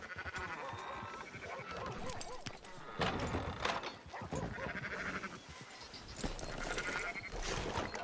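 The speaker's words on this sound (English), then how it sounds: "Fine sheep." Within the Red Dead Redemption 2 video game, sheep on a ranch bleat repeatedly amid hoof clops and ambient game noise, with no dialogue over them.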